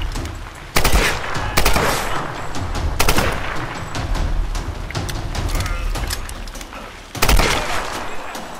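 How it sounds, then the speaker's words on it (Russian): Bursts of rapid gunfire in the Tomb Raider video game, loud sharp volleys recurring several times over a dense background of game noise, with no talking. "Где-то кто-то стрелял"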